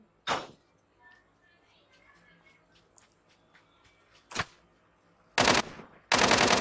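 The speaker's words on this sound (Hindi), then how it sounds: "इसके ऊपर मैं फायर कर रहा हूँ" Gunfire in the mobile shooter Call of Duty Mobile: a single loud shot, a second later, then two sharp bursts of automatic fire near the end, with faint game sounds and light voice murmur between.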